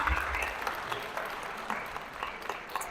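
An audience at a crisis intervention talk claps in a round of applause, moderately loud, with scattered individual claps in uneven rhythm and some faint voices underneath.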